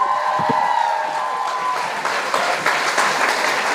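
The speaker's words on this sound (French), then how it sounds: "Vraiment, on peut l'applaudir." Audience applause at a televised French-language talent show, steady dense clapping filling the room and swelling slightly toward the end, with a few cheers mixed in.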